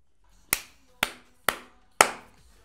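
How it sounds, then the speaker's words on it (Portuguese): Four sharp, separate claps, evenly spaced about half a second apart, close and fairly quiet against near silence. "É isso, pessoal, só posso bater palmas."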